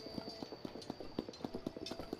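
Hooves of a small donkey clip-clop in a Zelda video game, a quick, even patter of light hoof taps repeating steadily throughout over a soft, constant game ambience.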